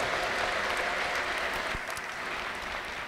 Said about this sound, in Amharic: ለጌታ ለኢየሱስ ክርስቶስ ከፍ ያለ ልልታና ጭብጨባ